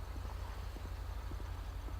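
A car engine in an online police roleplay game idles roughly and sputters, a low, throbbing rumble with a fast uneven pulse and faint irregular knocks, steady and close for the whole stretch.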